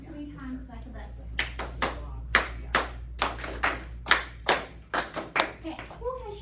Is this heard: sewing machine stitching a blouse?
no